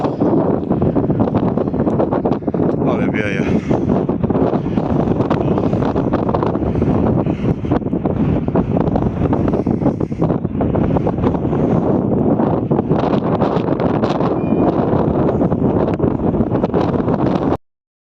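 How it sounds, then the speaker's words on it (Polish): Strong wind roars and buffets the microphone on top of a hilltop tower near Leicester, a loud, continuous rumbling blast with gusty fluctuations throughout, no talking audible. "Nie wiem, czy będzie dobrze mnie słychać, ale no wieje strasznie."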